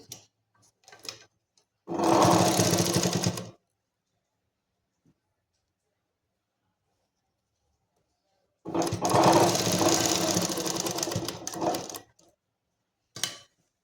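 A sewing machine runs in two bursts while a kurti collar is stitched, each burst a loud, fast mechanical whir of a second or more, with quiet pauses and a few small clicks between them.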